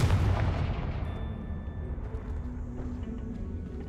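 A Confringo fire spell bursts in the Hogwarts Legacy video game with a loud booming blast up front, then a rumbling tail and scattered crackles that fade slowly.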